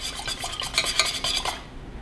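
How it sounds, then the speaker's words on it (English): Melted wax stirred in a metal pot with a utensil, giving a quick series of soft scraping clinks against the sides, close and fairly quiet, with no talking. "you wanna stir the wax to ensure you have the most accurate temperature"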